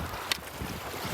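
Wind gusting across an open lake while packrafting, a broad breathy rush buffeting the microphone with one brief sharp knock, with no talking.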